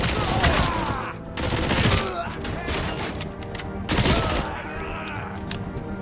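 Gunfire from the RoboCop video game: dense bursts of rapid shots in two heavy volleys with quieter crackling firing between them, close and loud.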